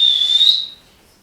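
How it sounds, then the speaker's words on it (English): Single shrill whistle held steady for about half a second, then quickly fading away into silence. "Can you whistle from upstairs?"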